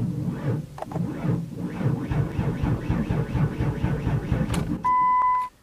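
A 1995 Ford Windstar with a dead battery failing to start, a rapid rhythmic clicking and chattering from the starter for several seconds, close by, ending with a steady electronic chime.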